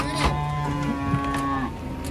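A giant bull gives one long, loud, drawn-out moo with a wavering tone, close by and mostly alone, fading near the end.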